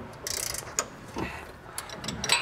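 Ratcheting clicks from a 22 mm wrench loosening a nut on a Toyota Tundra during a lift install, a few short mechanical bursts close by with brief pauses between them.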